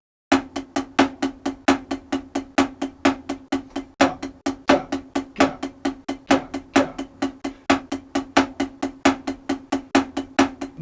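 Single stroke roll fill-ins played on a drum kit, rapid evenly spaced strokes with recurring accents marking a rhythmic phrase, loud and close, no voices.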